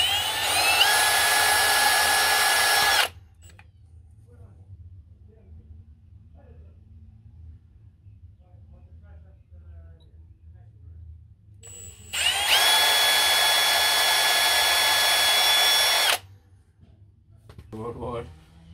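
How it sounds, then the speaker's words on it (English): Power drill boring pilot holes into an engine's rear main seal during a JZX100 manual transmission swap; two close, loud high-pitched whirring bursts of a few seconds each, separated by quiet with faint handling noises. "what I'm going to do is drill a pilot hole here and here"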